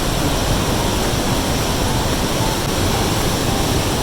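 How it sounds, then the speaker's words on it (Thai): A waterfall on a hiking trail in southwest Colorado, heard as a loud, steady, broadband rush of falling water that fills the whole clip with no pauses or talk. "เริ่มเห็นแล้วน้ำตก"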